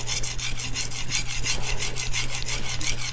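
A Super Blue steel knife is sharpened on an Arkansas natural whetstone in steady back-and-forth strokes, a close, even rasping scrape repeating about four times a second without a break and with no voices.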